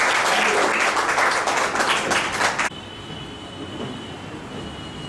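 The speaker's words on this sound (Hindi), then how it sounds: "तो एक बार फिर से जोरदार तालियां दोस्तों।" Dense audience applause fills a Hindi-language team training seminar for about two and a half seconds, then cuts off abruptly, leaving a quieter room hum.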